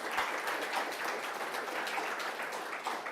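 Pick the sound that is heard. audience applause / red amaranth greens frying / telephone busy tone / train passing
audience applause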